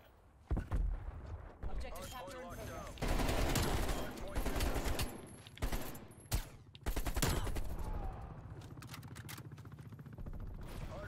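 An AK-47 firing in the Call of Duty Cold War game, several loud bursts of automatic gunfire broken by short pauses, with voices talking over the shooting.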